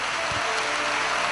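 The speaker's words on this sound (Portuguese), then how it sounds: "uma grande salva de palmas a Jesus" A church congregation applauds, a dense, steady wash of many hands clapping at once that fills the whole stretch with no clear talk over it.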